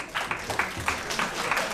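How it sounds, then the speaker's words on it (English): Audience applause at a wedding event for a mind-reading entertainer, a fairly close, uneven round of clapping with distinct individual claps standing out over the crowd. "Give Matthias a big round of applause"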